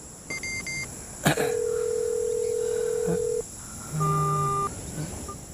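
A phone dials with a short series of beeping tones, a sharp click, then a long steady tone and a chord-like beep after a pause.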